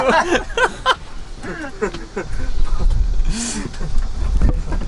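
A car rolls downhill and moves off again on a steep road, a low engine and rumble rising beneath lively close talk and a laugh from people inside.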